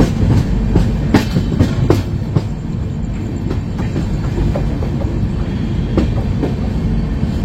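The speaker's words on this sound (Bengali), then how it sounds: "আমাদের আজকে লোকোমোটিভ ছিল WAP4" Puri Shatabdi Express hauled by a WAP4 electric locomotive running at speed, heard from inside a coach as a steady loud rumble with repeated clickety-clack rail joint beats and no talk.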